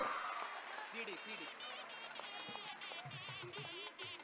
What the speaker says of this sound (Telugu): మీ చప్పట్లు తెలంగాణ మొత్తంలో ఉండే పిల్లలకి, మన చెల్లెళ్ళకి, తమ్ముళ్ళకి, వాళ్ళ అమ్మలకి, నాన్నలకి, కుటుంబాలన్నిటికీ వినపడాలి